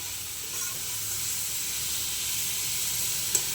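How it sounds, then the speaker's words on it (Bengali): Chicken pieces sizzling in a pan with crisp-fried vegetables for a chicken salad, a steady broadband hiss throughout with faint stirring and a brief utensil click near the end. "চিকেনগুলো দিয়ে একটু নাড়াচাড়া করবো"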